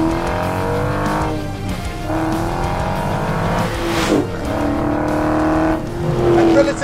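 Naturally aspirated 6.4-litre Hemi V8 in a 2020 Dodge Challenger R/T Scat Pack Widebody roars loudly and steadily outside, its pitch rising and falling as the engine revs build and ease off, with no talking.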